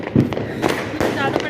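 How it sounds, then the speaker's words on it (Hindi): Sharp cracking bangs go off one after another, several Diwali firecracker blasts with a rumbling, noisy background and people talking faintly underneath. "इस साल इतनी भयंकर आवाज़ आ रही है ना पटाखों की"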